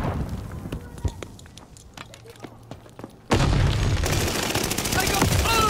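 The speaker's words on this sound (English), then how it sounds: "Throwing grenade!" Video game combat erupts with a grenade blast and gunfire: scattered shots and thuds at first, then a sudden loud burst of dense explosion noise that stays heavy through the end.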